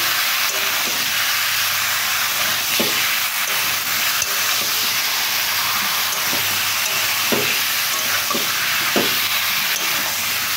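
Meat with spices fries in a pan, giving a loud, steady sizzle and hiss throughout. Scattered knocks from a spoon stirring it come through close up.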